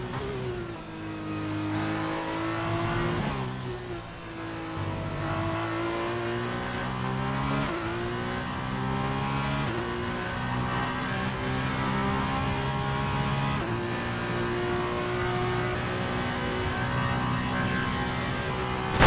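A race car engine revs and shifts as the car leaves the pit lane in a racing video game, a continuous loud whine climbing and dropping through gears with no pause.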